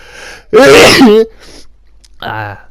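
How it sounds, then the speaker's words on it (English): A single loud, close sneeze bursts out, followed by a short quiet vocal sound afterward. "I'm about to sneeze."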